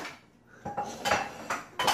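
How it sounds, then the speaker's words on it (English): Dishes clatter and clink as they are put away in a home kitchen, a few sharp near knocks of plates and cutlery at uneven intervals over quiet background, with no talking. "Megan, are you helping Mama put the dishes away?"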